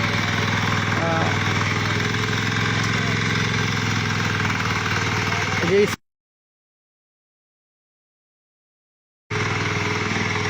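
A 10-horsepower mini tiller ploughs wet, muddy soil with a steady engine drone heard from a little distance. The sound cuts out completely for about three seconds partway through, then resumes at the same level.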